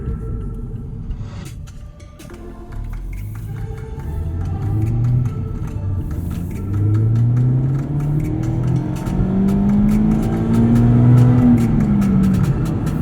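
From inside a 2021 Mazda MX-5 Miata RF Grand Touring, the engine rumbles and then climbs steadily in pitch toward redline, rising louder across the pass, with no one talking.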